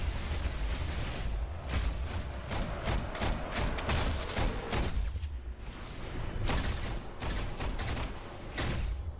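Rapid bursts of automatic gunfire in a Roblox shooter game, dense and continuous with a steady clatter of shots and mechanical clicks throughout, fairly loud with no pauses.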